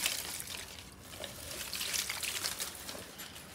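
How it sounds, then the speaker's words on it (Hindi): Water poured from a container onto garden plants outdoors, a steady close splashing trickle running continuously with no talk. "पानी डाल दिया अच्छा"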